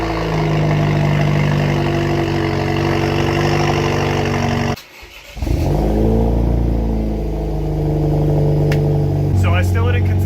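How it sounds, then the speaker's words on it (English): A car fitted with a new aftermarket exhaust runs loudly, drops out briefly, then fires back up and settles into a steady, close, resonant bass idle. "let's just start the car up."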